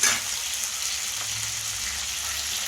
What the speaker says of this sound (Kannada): ಕ್ಯಾಪ್ಸಿಕಮ್ ಹಾಕ್ತಾಯಿದ್ದೀನಿ. ಸ್ವಲ್ಪ ಇದು ಹಸಿ ವಾಸನೆ ಹೋಗೋ ತನಕ ರೋಸ್ಟ್ ಮಾಡ್ಕೊಳ್ಬೇಕು.